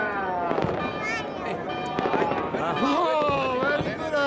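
New Year's Eve fireworks burst over Kuala Lumpur in a dense, continuous volley of pops and booms, while people talk and exclaim nearby through the noise.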